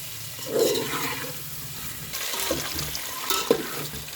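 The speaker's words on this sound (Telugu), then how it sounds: "ఇది ఒక 3 మినిట్స్ ఫ్రై చేసుకుందాం నూనెలని" Eggs frying in oil in a pan for egg curry, with a steady sizzle and occasional stirring clinks and scrapes, close and moderately loud.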